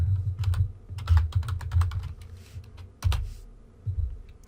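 Typing on a computer keyboard, close and clear, with quick irregular bursts of keystrokes separated by brief pauses.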